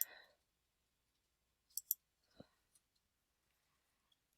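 A few faint, crisp computer mouse clicks in a quiet room, a pair close together followed by a softer single click, with a brief voice at the very start.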